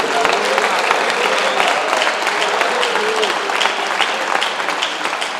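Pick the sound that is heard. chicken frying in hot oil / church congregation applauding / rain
church congregation applauding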